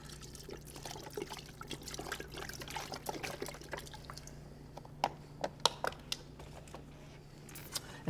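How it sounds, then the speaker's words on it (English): Beef broth pouring into a pot, a faint trickling and splashing liquid sound with scattered drips, close but quiet over a low steady hum, with no talking. "So we're gonna add our beef broth now."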